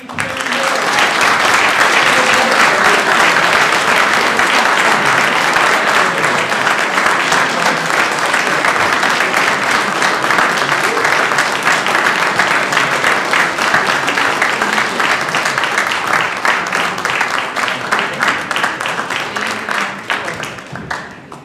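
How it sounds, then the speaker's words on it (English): Sustained audience applause at a public forum and legislative meeting, a loud, dense round of clapping from many hands that continues for about twenty seconds before tapering slightly at the end. "one more round of applause for our team"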